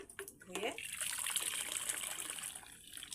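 Fried vermicelli being rinsed by hand in hot water, a steady splashing, trickling wash that runs close and continuous from start to finish.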